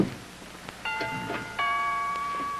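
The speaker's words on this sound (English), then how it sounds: "would you mind answering the doorbell" A two-tone doorbell chime rings twice, the second ding-dong sustaining and fading slowly, against a quiet room.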